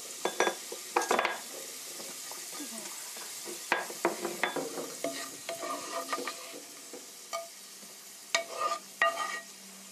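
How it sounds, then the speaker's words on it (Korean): Garlic frying in oil until golden, a steady sizzle broken up by scraping stirs and light clinks of a utensil against the pan, close and with no talking. "이렇게 마늘이 노릇노릇하게, 너무 익으면, 너무 하면 다 쓰니까 이 정도 됐을 때 건져내시고요."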